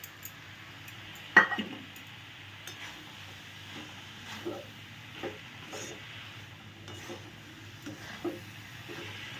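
Powdered milk being added to a pan and stirred while making a cashew and coconut rajbhog mondo sweet, with scattered soft scraping and clinking touches over a low steady background hiss, including one sharper clink near the start.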